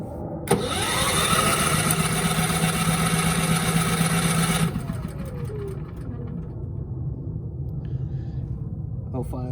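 Firman dual fuel 3200W generator cranking and catching on propane, with a loud steady engine drone and whine for several seconds, then dropping to a lower rumbling run, close up.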